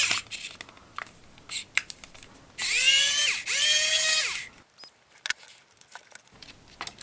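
A screw being removed from a PlayStation controller with a small power screwdriver, two close whirring bursts of about a second each with a rising whine, set among scattered light clicks and handling taps; no talking.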